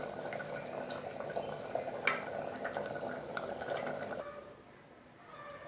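Green gram dhal gravy simmering in a pot, a soft steady bubbling with small pops and clinks, faint and close, fading near the end.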